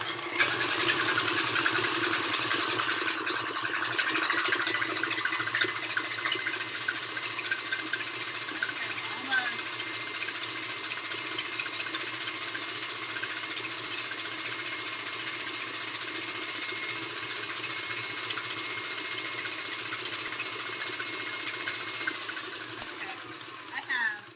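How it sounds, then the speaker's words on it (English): An electric mixer whisks eggs, whirring continuously at high speed, a steady buzzing drone with rattling texture, close and fairly loud throughout. "The first thing I have here is my mixer. I'm going to whisk up some eggs."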